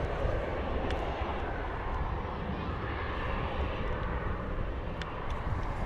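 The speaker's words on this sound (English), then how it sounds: "we have an arrival coming in of a Boeing 737 MAX 8 Ryanair coming in from Barcelona" Ryanair Boeing 737 MAX 8 arriving at London Luton from Barcelona, a continuous moderate jet engine roar heard from some distance, steady broadband rumble without speech.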